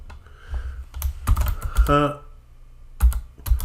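Irregular clusters of keystrokes on a computer keyboard, close by, broken by pauses, with a person's voice speaking in between.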